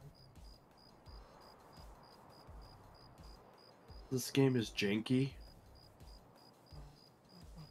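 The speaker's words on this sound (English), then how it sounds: "I don't know why we're hearing crickets when it's supposed to be like noon or something." Crickets in the Escape from Tarkov video game give a faint, steady high-pitched chirping pulse throughout, briefly interrupted by someone speaking in the middle.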